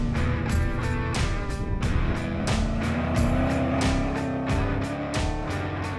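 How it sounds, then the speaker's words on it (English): An off-road desert racing truck on a test run, its engine revving hard and rising in pitch as it accelerates, loud and close, with rhythmic bursts of rattling and thumping from the rough ground. "Sam invites me to ride in the truck while he takes some test runs"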